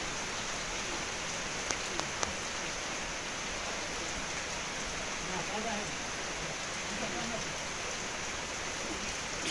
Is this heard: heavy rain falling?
yes